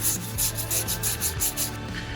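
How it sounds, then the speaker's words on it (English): A dowel wrapped in sandpaper scuffs the slick inside wall of a PVC pipe, producing steady back-and-forth rubbing strokes in a quick regular rhythm, close and alone. "PVC is really slick inside, so I got a smaller dowel wrapped in sandpaper."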